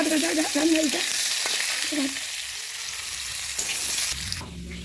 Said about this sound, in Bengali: এই দেখো মাছ ভাজা